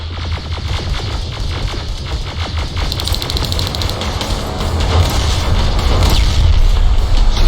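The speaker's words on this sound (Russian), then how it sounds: "Всё взрывается." Loud, continuous rumble of explosions and booming blasts in the video game Terminator: Resistance, with crackling debris and rapid bursts layered throughout, building slightly toward the end.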